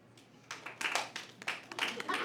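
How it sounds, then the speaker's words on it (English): A comedy-show audience claps, starting as a few scattered claps and swelling into quick, dense bursts of applause nearby. "Now clap your hands if you've ever been on an online dating app."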